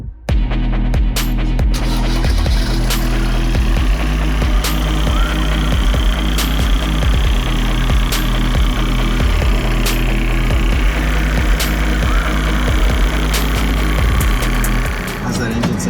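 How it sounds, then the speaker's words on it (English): A steady, throbbing diesel engine idles close by, its low rumble continuous and loud throughout with faint rattles on top. "How's that engine sound, dude? Sounds like a diesel."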